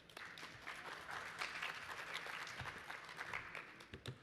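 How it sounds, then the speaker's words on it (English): Quiet applause from a conference audience at a chronic granulomatous disease meeting, a moderate crowd clapping steadily and fairly faintly for about four seconds. "Let's give a little round of applause."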